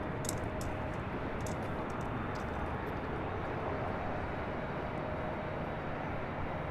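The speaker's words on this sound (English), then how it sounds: "KLM Flight 601 coming in from Amsterdam on a 787-10 Dreamliner." A KLM Boeing 787-10 Dreamliner arriving from Amsterdam lands at LAX, heard as a steady, broad jet roar that holds level throughout, fairly distant, with faint high clicks over it and no talking.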